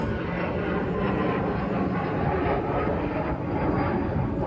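An airplane roars overhead, a loud, continuous broad engine rumble that holds steady throughout without speech.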